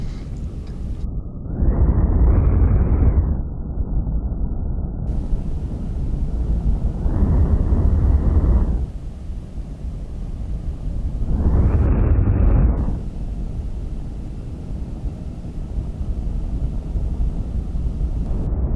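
Three loud, rumbling bursts roll out in sequence in Kerbal Space Program as spacecraft parts disconnect too early, each a broad roaring blast lasting a second or two over a steady engine-like drone.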